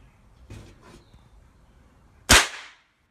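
An F4 airgun BB rifle fitted with a moderator fires a single close, sharp crack with a brief airy tail, preceded by two soft handling clicks in a quiet outdoor setting.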